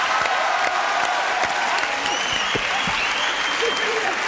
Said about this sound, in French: Applaudissements pour ce garçon.